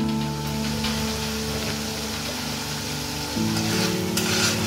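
Spice paste (masala) for a Bengali katla fish curry fries steadily in a pan, a continuous close sizzle with soft stirring scrapes, no voices.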